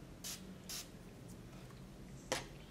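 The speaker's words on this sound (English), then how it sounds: "I'm actually gonna spray some water on my fingers" Two short, soft hissing bursts from a water spray bottle misting onto fingers, spaced about half a second apart, followed later by a brief faint click, heard close up in an otherwise quiet room.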